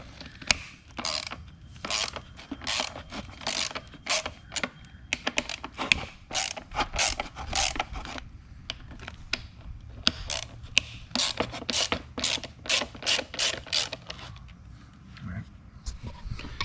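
Ratcheting clicks from a driver working T30 screws loose on the back piece of a 2009 C6 Corvette steering wheel, fast repeated close clicking bursts with short pauses, over faint handling noise.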